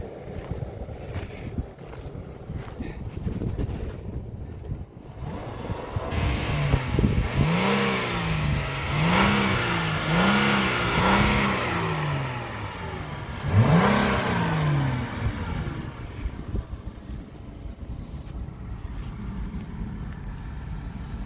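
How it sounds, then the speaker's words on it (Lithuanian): A car drives through the California desert, its engine climbing in repeated revving surges as it accelerates, with steady wind noise buffeting the microphone and no voices. "Štai tokia mašinytė važinėjom šiandien."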